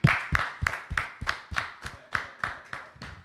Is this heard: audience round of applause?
yes